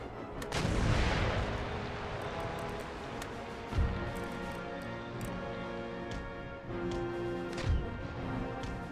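Naval cannon fire in Empire: Total War, sailing ships trading broadsides: a heavy booming blast at the start followed by a few more distant rumbling shots over a continuous battle din.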